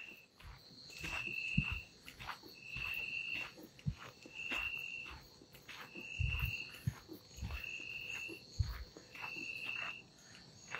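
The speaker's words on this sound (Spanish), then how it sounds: "Esos grillos tocan muy fuerte." Crickets at a nighttime lagoon trill in regular shrill pulses about every second, layered over a dense insect drone and a few low thumps and rustles nearby, with no talking.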